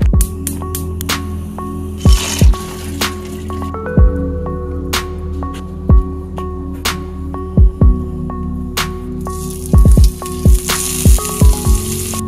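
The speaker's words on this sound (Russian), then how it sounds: "У меня остался сыр халуми, который я сейчас пожарю" Halloumi cheese fries in a pan with a soft steady sizzle, broken by sharp scattered pops and spits that come in quick bursts, close up and with no voices.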